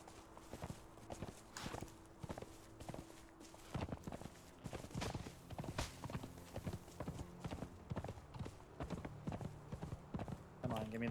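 Horse hooves clip-clop steadily in the game Conan Exiles, a quick repeating rhythm of close, crisp footfalls at moderate loudness, with someone talking over them throughout.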